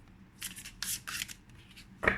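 Several soft riffling bursts of a tarot card deck being shuffled, close and quiet, ending with a sharper flick.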